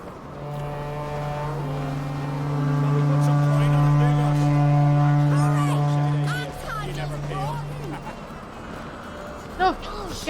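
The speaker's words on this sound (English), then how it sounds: "You'll start when I sound the horn." A long, steady horn blast in a video game signals the start of a race, sounding for several seconds, loud and sustained, then fades as voices talk over it toward the end.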